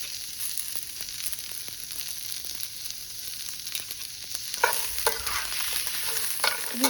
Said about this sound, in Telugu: ఇవి 1 నిమిషం ఇట్లా వేపుకోవాలి